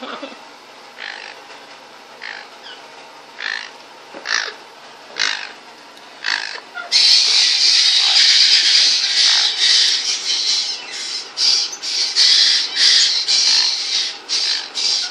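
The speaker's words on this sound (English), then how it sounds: "As you can hear, the Caique babies are out." Caique parrot chicks squawk to be fed, starting as scattered harsh calls and then swelling into a loud, continuous chorus of raspy, overlapping squawks close by.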